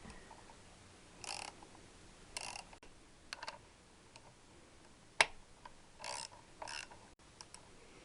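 A half-inch drive socket ratchet working on a Triumph T120R motorcycle engine during a bottom end rebuild, giving short bursts of quick clicking, close and faint, with pauses and one sharper metallic knock.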